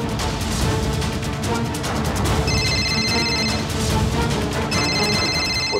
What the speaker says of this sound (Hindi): पुराने इंस्टीट्यूट के मैनेजर का कॉल आ रहा है।